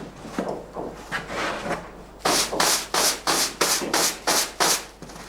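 A wooden peel scrapes across the oven floor of a traditional artisan bakery as baked bread loaves are pulled out, a steady series of about a dozen close, rhythmic rasping strokes.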